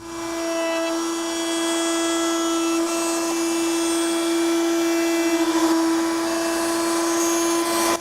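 A router table with its bit raised cuts a roundover along square wood stock, a steady loud motor whine with a bright high pitch holding continuously from start to finish, with no talk.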